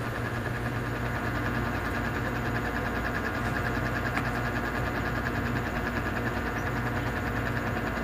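A sewing machine stitches a blouse repair, giving off a steady, even mechanical hum with a fine rapid rhythm that runs unbroken throughout, close and moderately loud, with no talking.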